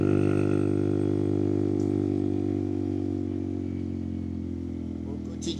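A Honda Monkey 125 motorcycle engine, a 9-horsepower 125 cc single, runs steadily with a loud, even drone that holds throughout, eases slightly partway and rises briefly at the very end.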